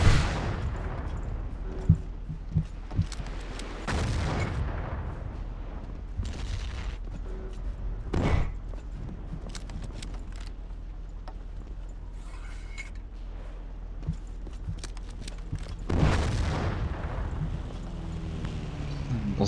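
Gunfire and explosions in a Battlefield 1942 battle at Gazala, with scattered sharp shots and several heavy booming blasts, some close and loud, others more distant, over a steady background rumble.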